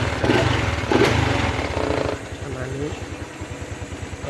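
A Honda Wave 110i motorcycle with a slipping clutch and a noisy engine revs up, then drops back to a steady, pulsing idle close by while someone talks over it.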